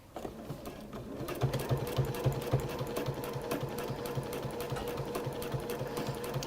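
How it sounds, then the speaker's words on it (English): A sewing machine stitches around a long strap with a steady, close mechanical whir and rapid needle rhythm that runs without pause, with no talking. "this is going to be dead boring just watching me sew all the way around this very long strap"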